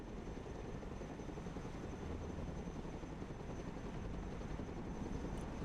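Cargo helicopter in the video game Broken Arrow, a steady dense rotor and engine roar that holds at an even level throughout with no talk.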